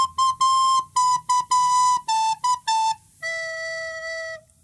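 A recorder plays the opening line of a song alone, a bright, breathy run of short repeated notes stepping downward and ending on one longer held note, close and clear.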